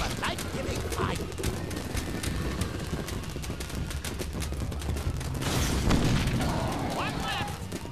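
Fireworks shot off in the Sam and Max video game make a rapid series of sharp pops, crackles and booms throughout. A louder burst comes near the end, with a whistling streak as it closes.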